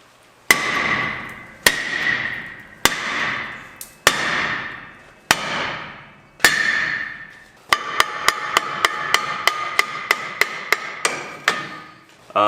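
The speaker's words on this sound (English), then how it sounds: "since it's cast iron, beat the shit out of it with a big hammer" A big hammer pounds a stuck cast iron part on a 1979 Ford F150: six heavy, ringing blows spaced about a second apart, then a faster run of sharper metallic strikes, all close and loud with no talk.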